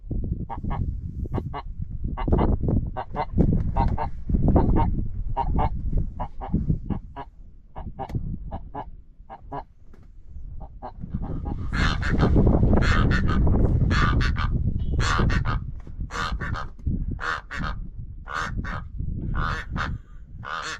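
Recorded goose-like bird calls played back on a safari at Sanbona, sounding as loud honking cries in rapid repeated bursts, pausing briefly midway and then returning in sharper, faster calls.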